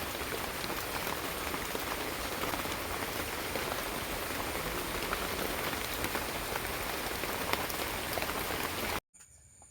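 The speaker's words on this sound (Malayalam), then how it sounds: "ഇവിടെ മഴ പെയ്തു തുടങ്ങി" Steady rain falls heavily on a surface, a dense constant patter that stops abruptly near the end.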